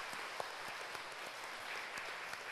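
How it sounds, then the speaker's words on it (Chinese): Church congregation applauding to welcome newly baptized members during a baptism service, a steady wash of clapping with a few sharper claps standing out, moderately loud throughout. "用咱的鼓掌来欢迎因进入伫咱的大家庭的内面"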